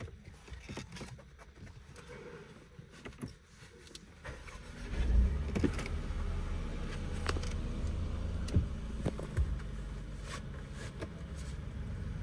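A Mercedes-Benz CLA 200 with about 23,000 km on it starts up and settles into a steady low engine hum, with occasional clicks and knocks close by.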